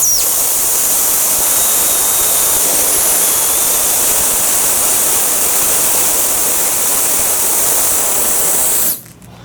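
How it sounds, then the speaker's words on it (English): Water sprays hard from a nozzle in a loud, steady hiss that holds for several seconds, then stops abruptly. "I'll show you all the nozzle, how it sprays."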